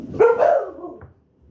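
Dogs bark in a short loud burst of two or three overlapping woofs close by, then trail off into quiet.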